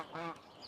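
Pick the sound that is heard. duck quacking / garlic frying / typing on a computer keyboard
duck quacking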